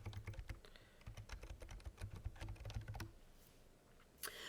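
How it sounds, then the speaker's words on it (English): A computer keyboard clatters as someone types into a browser address bar, with rapid close keystrokes in bursts for about three seconds, then a pause and a final key press. "so we will need to type this into the address bar"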